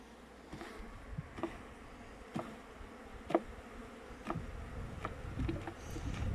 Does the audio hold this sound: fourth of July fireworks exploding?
no